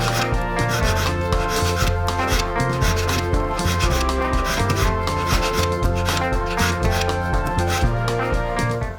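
Gold wedding ring bands being shaped with a hand file, giving steady rasping strokes that repeat without a break at even volume over an underlying musical backing.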